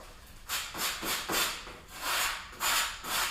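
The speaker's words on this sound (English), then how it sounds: "Next thing to do, obviously you have to sand this down, make sure it's nice and perpendicular." A cut paddle part is sanded by hand, close and rhythmic, with about seven rasping strokes back and forth in quick succession.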